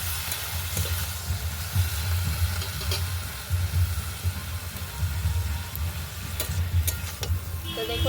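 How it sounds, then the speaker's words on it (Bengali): Bottle gourd greens frying in a pan with salt, a continuous close sizzle and hiss with soft stirring scrapes throughout. "শাকগুলো ভাজা ভাজা হয়ে গেছে"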